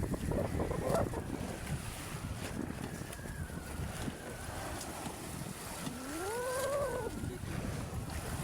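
Wind buffets the microphone in a steady roar over open water, with a boat's engine droning and a voice rising briefly near the end.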